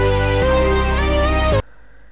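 A sustained synth chord from the audio file plays loudly in FL Studio, shifting to a lower held chord before cutting off abruptly into near silence.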